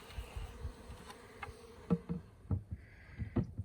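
Honey bees buzzing in a box after being bumped down from the sides during a removal of a long-established wild colony, a close swarm hum broken by scattered knocks and thumps.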